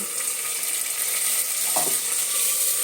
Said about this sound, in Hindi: अब मैं इसमें डाल दूंगी टमाटर